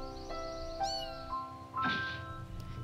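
A cat meows in a children's cartoon, a few short plaintive cries rising and falling over soft background music, moderately close with no talk.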